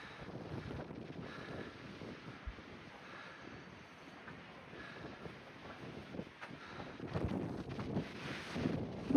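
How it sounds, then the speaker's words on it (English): Brisk wind on a mountain stretch of the Appalachian Trail rushes and buffets against the microphone in low, uneven gusts that swell toward the end. No one speaks. "the wind is brisk"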